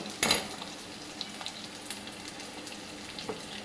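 Onions frying in a pan for egg curry, a soft continuous sizzle with a sharper crackle near the start and light occasional stirring, close and fairly quiet.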